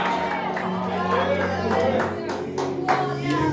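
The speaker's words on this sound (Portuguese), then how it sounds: "Aplauda o Senhor porque ele merece" Congregation clapping in a church during a worship service, a steady mix of hand claps under crowd murmur and a voice, with music or organ tones sustained beneath.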